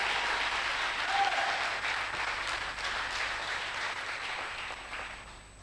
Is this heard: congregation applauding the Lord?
yes